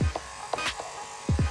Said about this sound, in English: I have to move my clipper downward